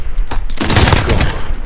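Rapid automatic AK-47 fire from the PMC variant in Call of Duty: Modern Warfare, a loud, dense burst of overlapping shots lasting about a second with no talking.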